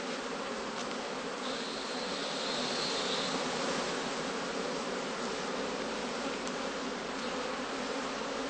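Honeybees working heather blossom around straw skeps in late summer, a continuous dense buzzing hum of many insects, steady and fairly close, with no voices.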